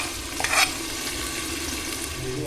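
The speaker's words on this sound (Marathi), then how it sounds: "आता आपण टाकतोय टोमॅटोची प्युरी. प्युरी नाही प्युरी. त्याला मस्त मिक्स कर." Tomato puree frying with onions in a pan for home-style egg biryani, a steady sizzle under a brief louder scrape of stirring near the start.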